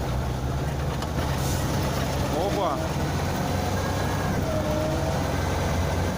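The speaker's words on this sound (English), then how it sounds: "Another bulldozer and a grader will try to pull him out" A bulldozer and a grader strain to pull a sunken bulldozer free, with a continuous low engine rumble throughout and a voice talking over it.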